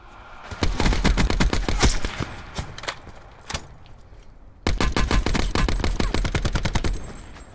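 Rapid bursts of automatic gunfire in a video game, loud and close, with rattling volleys broken by brief pauses and a final long sustained burst.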